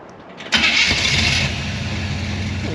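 A 1957 Chevy Bel Air engine cranks and catches at about half a second, then settles into a loud, steady, rich-running idle close by.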